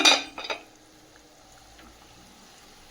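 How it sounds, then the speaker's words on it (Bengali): A metal lid comes off a pot of simmering curry with a short, close clatter and a couple of clinks, then only a faint, quiet bubbling remains. "তরকারিটা ঢেকে রাখবো ঢাকনাটা খুলে দেখে নেব"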